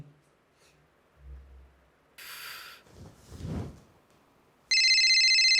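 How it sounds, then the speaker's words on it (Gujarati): A telephone rings loud and close with an incoming call, a sustained bright electronic tone that cuts in near the end after some quieter shuffling and brief noises. "એટલે આ મમ્મીનો ફોન આવ્યો"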